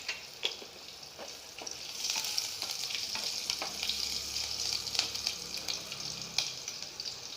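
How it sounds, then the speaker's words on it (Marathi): Chilli dropped into hot oil with cumin seeds sizzles and crackles steadily and close, with sharp pops scattered throughout and no talking. "हे बघा तेल तापलं, त्याच्यात जिरे टाकलं, त्यात आपण ही 1 मिरची टाकून घेऊ।"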